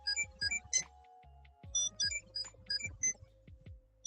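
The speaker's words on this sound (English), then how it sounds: "you're gonna hear a bunch of beeps because I have to play with my Tamagotchi" A Tamagotchi digital pet gives a string of short, high electronic beeps and chirps in quick clustered bursts, with a brief pause midway, fairly faint and close, with no talking.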